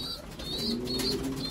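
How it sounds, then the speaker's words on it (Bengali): A pigeon from a 2015 bloodline, currently feeding its young, gives soft, close, repeated coos in a short steady run. "2015 সালের একটা কবুতর"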